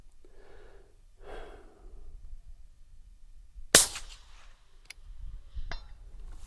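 A sharp, loud crack of an air rifle shot with a quick metallic ping as it hits a can, surrounded by quiet outdoor rustling and a faint second tap afterward.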